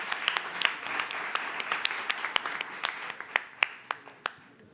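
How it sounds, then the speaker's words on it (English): Sparse, thinning applause from a conference audience for a panel at a Madrid business event, a scattering of separate claps that fades out over a few seconds, moderately quiet. "please join me in an applause to this panel"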